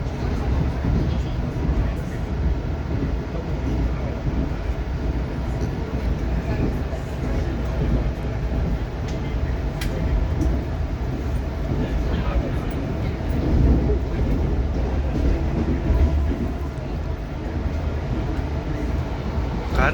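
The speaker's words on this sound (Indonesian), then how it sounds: "Dan kereta api Papandayan melintas langsung stasiun Cikarang" Papandayan passenger train running straight through Cikarang station without stopping, a steady loud rumble and rolling rail noise heard from inside the carriage for the full length, with no clear breaks.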